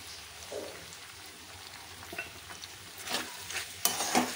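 Pasta frying in a pan with tomato sauce and a pinch of salt, a steady soft sizzle with occasional scraping stirs that grow louder and more frequent toward the end.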